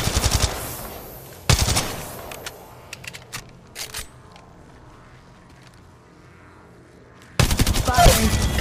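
Loud automatic gunfire from the Apex Legends video game comes in two dense sustained bursts at the start and end, with scattered single shots and quieter game noise in between.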